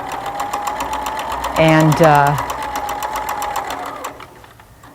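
A sewing machine runs steadily for free-motion quilting with the presser foot, a close, even mechanical whir that briefly gets louder and rougher midway, while a voice speaks over it before the machine fades out.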